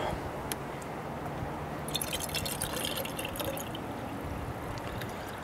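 Coolant is poured into the cooling system of a 2001 GMC Sierra after a thermostat replacement. Faint dripping and gurgling liquid sounds up close, with a busier burst of splashy trickling in the middle and no talking.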